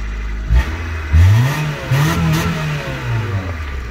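Car engine at an auction cranks and catches, then revs in several rising and falling surges before settling, close and loud with no talking.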